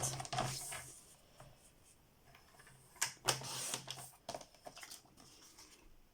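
Paper being cut for a handmade album, quiet close crisp snips and rustling handling noises in irregular bursts, with faint clicks between them.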